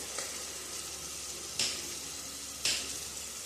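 Onion, tomato and whole spices sauté in oil at a soft, steady sizzle, broken by a few sharp stirring clinks of a spoon against the pan.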